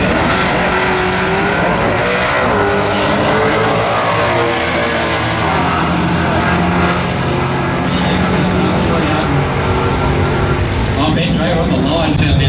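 A drag-racing Camaro with a 400 cubic inch Chevy small-block V8 roars loud and continuous at a race meeting, engine noise steady throughout with a commentator talking over it.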